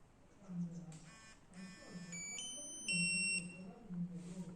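A handheld skID reader gives a series of three sharp high-pitched beeps and tones, nearby and clear, with a low hum underneath.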